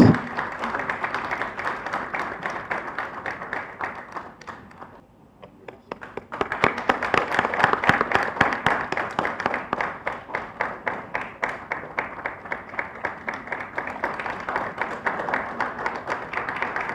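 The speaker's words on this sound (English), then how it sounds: "I would request the OTs to give a big round of applause to all the winners." An audience at a valedictory function gives a long round of applause for the winners, dense clapping that briefly thins before resuming and continuing steadily.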